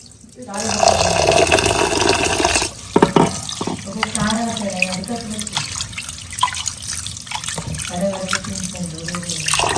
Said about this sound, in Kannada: ಈಗ ಅಕ್ಕಿಯನ್ನು ಕ್ಲೀನಾಗಿ ತೊಳ್ಕೊಂಡಿದ್ದಾಯಿತು